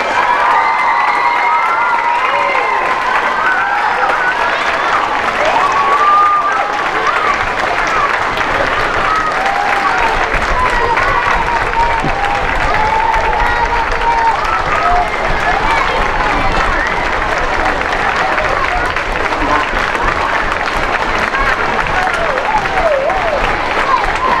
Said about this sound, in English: Let's give all of our veterans another big round of applause.